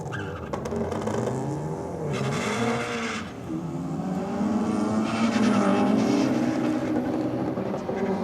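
An RX-7 and a small Honda launch side by side in a drag race, engines revving hard and rising in pitch as they accelerate away, with a brief tire chirp and steady loud engine drone throughout.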